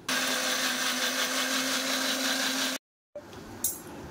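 A blender grinds mustard seeds, black cumin, salt and a little water into a paste. A loud, steady whirring runs for almost three seconds, then cuts off abruptly, followed by a short clatter.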